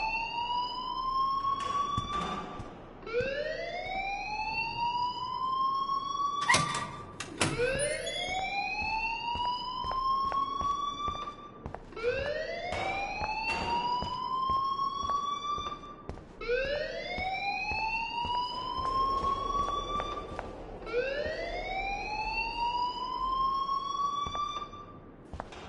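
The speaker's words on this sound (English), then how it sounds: "please turn off that alarm since that's your job." School alarm in Life is Strange rings in repeated rising electronic whoops, about five cycles at a regular pace, loud and continuous with no talking over it.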